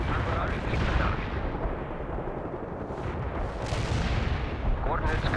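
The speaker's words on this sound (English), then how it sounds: "Barrage hit the target." An artillery barrage strikes its target in the World in Conflict video game, a dense, rumbling roll of heavy blasts and booms that continues without break.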